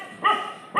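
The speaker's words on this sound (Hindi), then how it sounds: "चीनी भौंक रही है किसी पे है।" A dog gives two sharp barks at close range, separated by a short pause, with no talking over them.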